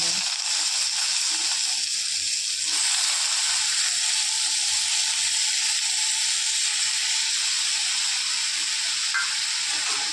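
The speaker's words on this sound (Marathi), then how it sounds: "आता आपण अगोदर पनीर फ्राय करून घेणार आहोत" Paneer fries in hot oil in a home kitchen, producing a steady, even hiss and sizzle that holds at a constant level throughout, close and fairly loud with no clear voices.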